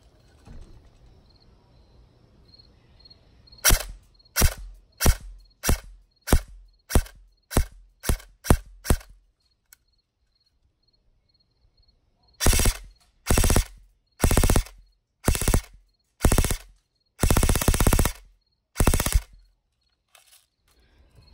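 Lancer Tactical M4 gen 2 airsoft gun shooting, a string of about ten sharp, evenly spaced semi-auto shots, then after a pause several more crisp shots and short bursts, close and alone.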